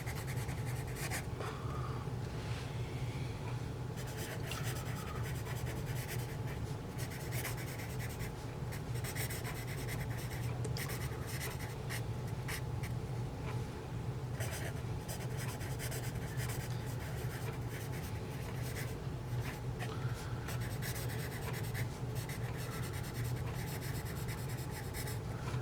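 A Paper Mate Mongol 480 #2 pencil writing on paper makes a continuous close, soft scratching and rubbing, with short strokes and brief lifts repeating evenly for a long stretch without talk.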